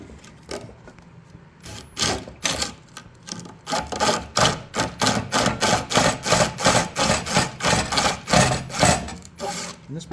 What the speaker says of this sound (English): I like to bend this sandpaper around the dowel